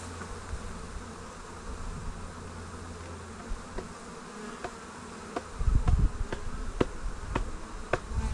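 Honeybees buzz in a dense, continuous drone while a hive is split, with sharper knocks and handling sounds joining in toward the end, close by.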